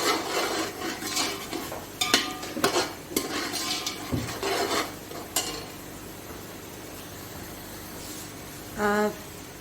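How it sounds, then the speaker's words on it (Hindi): Coriander powder and turmeric frying with beef bong paya in a pot, with repeated scraping stir strokes over a sizzle that is loud at first and then settles to a quieter hiss, followed by a short utensil tone near the end. "इसको चंद सेकंड के लिए इसमें अच्छी तरह भूनना है"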